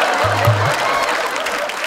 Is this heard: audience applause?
yes